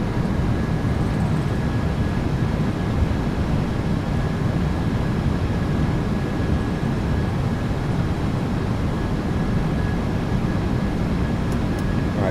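A PMDG 737-800 landing rollout in Microsoft Flight Simulator 2024, with reversers deployed during deceleration: a steady, loud, broadband roar of engine and rushing air that holds constant throughout, with no talking.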